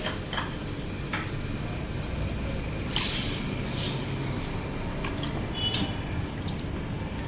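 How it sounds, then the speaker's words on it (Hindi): About a litre of water poured into a pot of white mutton pulao, a steady wet splashing and sloshing over a continuous broadband wash, close and moderately loud, with small drips and squishes near the end. "1 लीटर हमें वाटर ऐड करना है इसमें"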